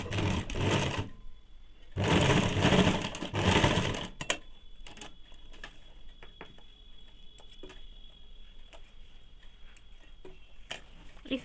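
A sewing machine runs a seam on a ladies' pant in two loud, sustained bursts, then falls to quiet ticking and light clicks.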